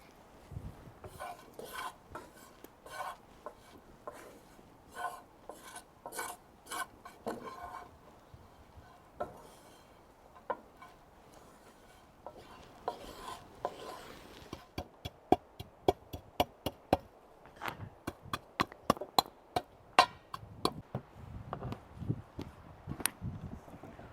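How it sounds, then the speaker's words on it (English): Grain for Stone Age flatbread is ground by hand with stones in a repeated scraping and knocking rhythm, sparse at first and then faster and sharper in the second half, close and fairly quiet. "So I think we're now in our final phase of grinding."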